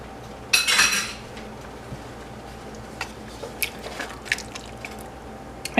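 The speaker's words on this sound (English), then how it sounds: "I'm gonna get a spoon." A spoon clinks against a pot of turkey chili with a short, bright metallic clatter near the start, then a few lighter scattered taps and scrapes.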